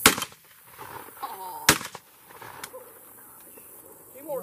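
Shotgun blasts at doves during a dove hunt: a sharp near report at the start and another loud crack mid-clip, with hunters talking excitedly between the shots.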